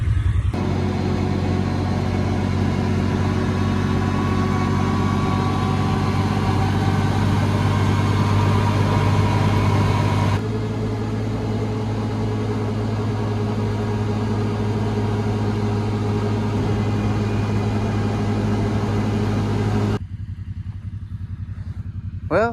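A John Deere side-by-side rolls along farm trails with a loud, steady engine drone close by. The drone keeps a constant pitch for about twenty seconds, then drops away abruptly near the end, with no talking.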